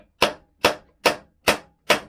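Five sharp hammer strikes land at an even, steady rhythm, each a crisp close knock that decays quickly into silence.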